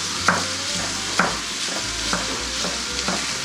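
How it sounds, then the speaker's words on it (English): A pound of sausage browning in a pan: soft, steady sizzling broken by a few distinct scraping stirs of a utensil at regular intervals, close and moderately quiet, with no talking. "frying up 1 pound of sausage."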